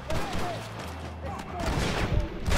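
Machine gun fire in the video game Red Dead Redemption crackles in dense, rapid bursts mixed with scattered gunshots, with a voice talking over the shooting.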